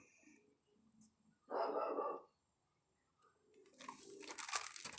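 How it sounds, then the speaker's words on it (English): Household dogs bark in a short, loud burst of a few overlapping barks, followed after a pause by scuffling, crunching noise rising toward the end. "Sorry about my dogs."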